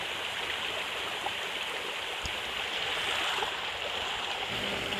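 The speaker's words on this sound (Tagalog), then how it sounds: "Maliit lang na Sapa, pero malamig ang tubig." A small, cool stream flows near Tai Lam reservoir with a steady, soft broadband rush of trickling water and no voices.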